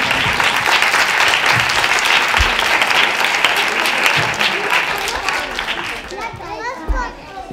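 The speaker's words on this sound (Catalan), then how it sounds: "Els hi fem un fort aplaudiment" An audience bursts into loud, sustained applause for the authors at a children's book presentation, with children's voices mixed in. The clapping holds steady, then thins out near the end.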